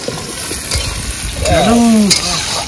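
Goat mutton curry fries in oil in a pot, cooked outdoors on a fishing trip by a Sundarbans river. A steady close sizzle and bubbling runs throughout, with a voice or tonal sound briefly rising above it midway.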